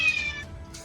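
A person imitates an angry cat, producing a short, close yowling meow that rises and then trails off, with no other talk around it.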